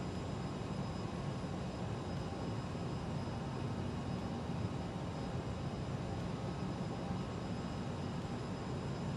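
An aircraft engine drones steadily during a descent in a flight simulator video game, an even broadband roar of constant loudness with no talk over it.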